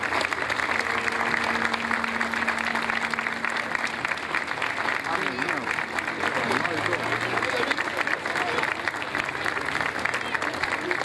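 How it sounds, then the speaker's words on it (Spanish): A crowd at an outdoor patron saint festival parade in Coronel Moldes, Argentina, applauds steadily and loudly throughout, with voices calling out over the clapping. "Un fuerte aplauso"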